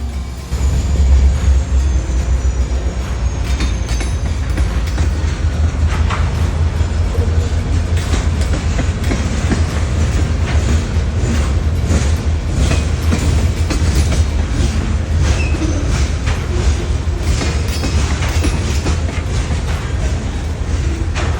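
A Union Pacific local freight led by an SD60 and a GP38-2 rolls past close by, deep steady locomotive rumble under a constant wash of wheel and car noise with faint rhythmic clacking, loud and unbroken.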